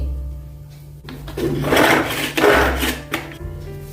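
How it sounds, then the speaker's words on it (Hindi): A food chopper whirs loudly in bursts as carrots are minced, the grinding noise rising and falling with brief pauses between pulses. "गाजर को भी हम कटर में बारीक कर लेंगे।"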